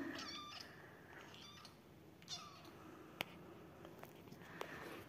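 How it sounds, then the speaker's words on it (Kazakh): A cat meows several times in short, drawn-out calls, close by, with a few faint clicks and rustles between the meows. "Бүгін біз мысықпенбіз. Мысықпен."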